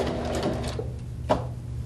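A sewing machine top stitching through thick fabric runs in a close, steady whirr, slowing a little toward the end, with no voices heard.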